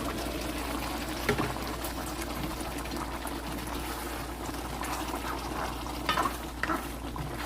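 Mung beans and vegetables being stirred in a pot, a continuous soft sizzle and wet churning with occasional scrapes and clinks of the spoon, close and steady, with no talking.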